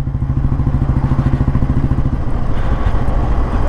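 A 1957 Royal Enfield Bullet G2 vintage motorcycle engine runs steadily up close, a loud, even low thumping idle with a rapid, regular beat and some mechanical clatter throughout.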